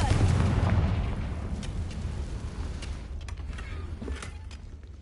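A Confringo blasting curse goes off in Hogwarts Legacy as a loud, close explosion with a deep rumbling boom that slowly decays, followed by crackling and creaking debris.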